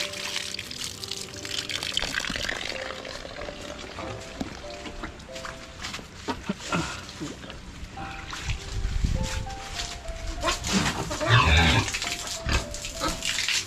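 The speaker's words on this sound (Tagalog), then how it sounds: "magpapaligo tayo ng baboy" Pigs on a rural Philippine farm are washed down with water, splashing and trickling throughout while grunts and squeals break out, loudest in a burst near the end.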